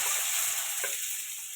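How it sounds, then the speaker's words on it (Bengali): Eggs fry in oil seasoned with turmeric and salt, giving a soft, continuous hiss of sizzling that fades slightly, with one brief soft tap midway and no voices. "ডিমগুলো ভেজে নেব।"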